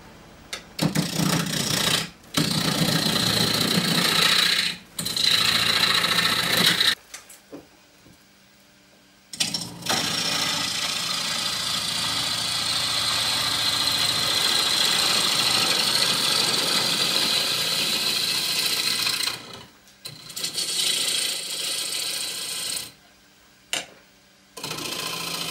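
A wood lathe turns a Bradford or Manchurian pear log as a half-inch spindle gouge cuts into it, giving a loud, steady whirring and chattering broken by several abrupt stops and short pauses.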